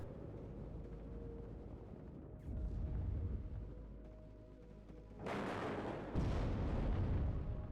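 Laser-guided bomber strike in the WARNO strategy game slamming into a Warrior vehicle: two heavy booming explosions about a second apart, loud and broad, rising over a steady rumble of battlefield gunfire.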